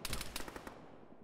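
Gunfire in the military video game Arma, a quick burst of several rapid shots in the first half second followed by fading echo, fairly faint and distant.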